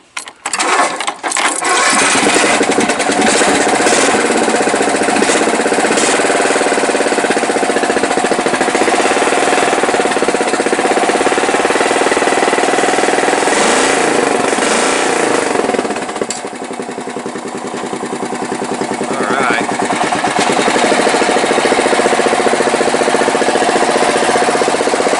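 A Craftsman riding mower's engine starts with a few coughs and then runs loud and steady close by, with a rough, throbbing drone that dips briefly before recovering.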